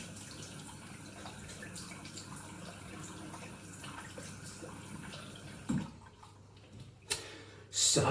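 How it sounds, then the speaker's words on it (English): Tap water runs steadily and fairly quietly while a face is rinsed after shaving, with a few louder splashes near the end. "Right then, let's have a rinse off and see how it is."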